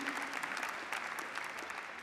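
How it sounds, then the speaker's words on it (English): Audience applause at a family event, a steady wash of many hands clapping at moderate distance, fairly quiet and even for about two seconds with no talk over it. "Let's give Mike and Debbie a round of applause all the way from Nashville, Tennessee"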